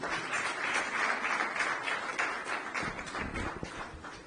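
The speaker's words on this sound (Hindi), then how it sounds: "जरा कवि के नाम पर तालियां बजा दीजिए" An audience at the NAEC Annual Awards ceremony in Noida claps for a doctor being honoured as a poet. The applause is a dense, steady wash that thins slightly toward the end, with a few sharper individual claps.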